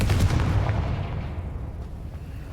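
A Confringo fire spell blast in the Hogwarts Legacy video game, heard as a loud, booming burst at the start that rolls off into a lingering rumble and fades over the next two seconds.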